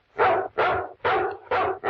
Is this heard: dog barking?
yes